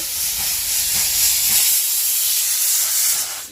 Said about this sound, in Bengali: এই তো একটা সিটি দিয়েই দিল